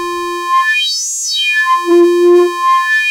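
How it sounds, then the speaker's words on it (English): A synthesizer tone with strong filter resonance as the cutoff sweeps up and back down, producing a whistling, sighing sweep through the harmonics that repeats with a wobbling character; loud, close and without any voice. "filter resonance, which creates an emphasis on the filter cutoff frequency"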